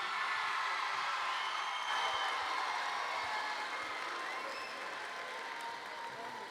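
An audience at a student talent show claps and applauds steadily throughout, a dense, even wash of many hands that eases slightly toward the end.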